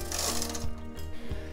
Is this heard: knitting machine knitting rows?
yes